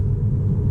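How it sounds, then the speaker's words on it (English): Steady low rumble of tires rolling on pavement at city speeds, a continuous droning road noise inside a moving 2019 Tesla Model 3 Standard Plus. "the car it does have quite loud tire noise"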